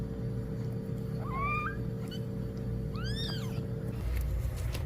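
A mother cat that has just given birth to two kittens gives several short, rising meows over a steady background hum, with a louder cluster of cries near the middle.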